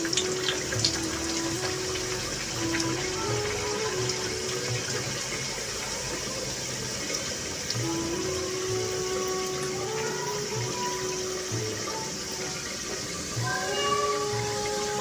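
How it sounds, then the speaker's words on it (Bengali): Radhaballavi dough deep-frying in hot white oil, a steady loud sizzle and bubbling that runs unbroken the whole time with no voices. "তেল গরম হয়ে গেছে, এবার আমি কাঁটা বল্লবিটা দিয়ে দিলাম। এবার এটি আমি ভালোভাবে ভেজে নেব।"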